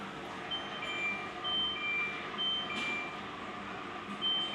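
A Samsung washing machine runs on its spin cycle with a steady low hum and whine, joined by faint intermittent high beeps, at a moderate distance with no talk.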